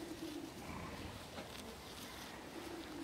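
Soft, low cooing of racing pigeons murmurs repeatedly under a steady background hum, fairly quiet and continuous throughout.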